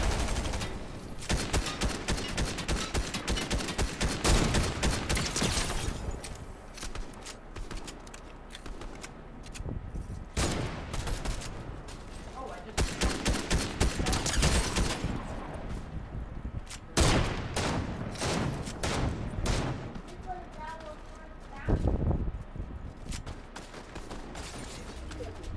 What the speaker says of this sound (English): And people are shooting at you.